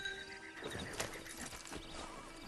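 Horse in the Red Dead Online video game, with hoof clops and a whinny-like call over ambient game sound and faint birdsong, moderately loud for a few seconds.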